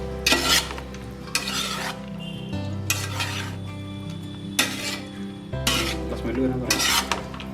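A spoon scrapes and stirs vegetable fried rice in a pan in repeated rasping bursts, close and fairly loud, with a brief spoken phrase between strokes.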